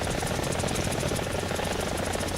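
Mi-24D attack helicopter in the video game War Thunder, its engine and rotor making a loud, steady, dense drone with a fast pulsing beat, heard on its own throughout.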